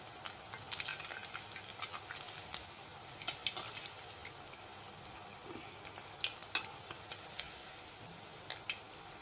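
Kodubale, crisp South Indian rice-flour rings, frying in hot oil: a soft, steady sizzle scattered with small pops and crackles, fairly faint and close, with no talking.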